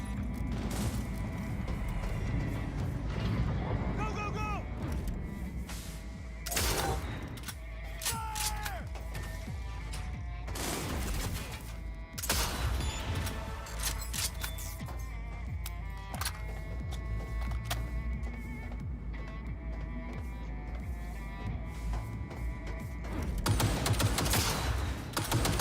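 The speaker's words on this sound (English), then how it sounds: "What are they shooting at?" Sustained gunfire fills a Cyberpunk 2077 firefight: repeated loud bursts and sharp shots over a dense, churning background of mechanical noise, continuing steadily with no clear pauses.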